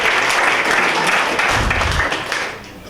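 An audience at a comedy competition claps and applauds loudly, a dense wash of hand claps that holds steady and then tapers off near the end.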